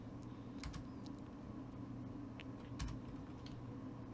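Typing on a computer keyboard at a desk while working in mapping software: a few scattered, faint key clicks over a steady low background hum, no talking.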